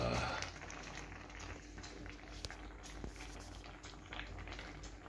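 Tomato pickle simmers in a covered pot, giving a steady low bubbling and sputtering close by, with faint clinks and light kitchen movement and no talk over it.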